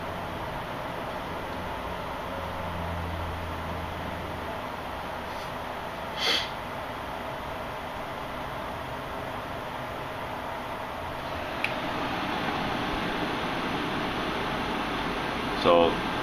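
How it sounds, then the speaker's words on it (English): Computer case fans and a fan near a graphics card cooler hum as a steady, faint broadband whoosh, with a few soft breathy sounds and small knocks over the constant airflow. "it's probably this fan and my couple case fans that are close by to it."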